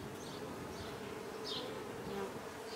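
A honey bee swarm hums steadily around its hive, a dense continuous buzz with individual bees passing close by now and then, heard alone without talk.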